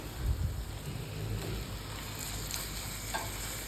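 Beef sizzles in a pan with vegetables, a steady soft frying hiss with faint stirring clicks, fairly quiet and continuous.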